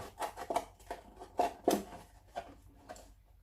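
Scissors snipping through paper during a home craft project, a series of quiet, crisp cuts in an uneven rhythm, close by and faint, with no voices.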